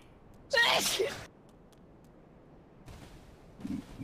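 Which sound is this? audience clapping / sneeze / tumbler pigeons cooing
sneeze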